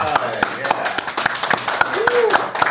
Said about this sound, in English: A round of applause for McDuff.